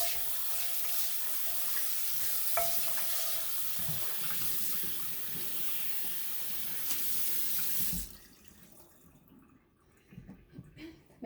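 Tap water runs steadily into a sink while a cast iron pan is rinsed, with a continuous hiss and splash over soft clanks of the pan. The flow cuts off near the end, leaving faint dripping and handling sounds.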